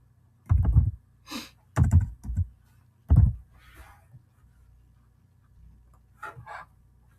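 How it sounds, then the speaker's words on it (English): A few sparse, hollow key taps on a computer keyboard in a quiet room, spaced out irregularly, with soft faint clicks between them. "be nice if I could type tonight"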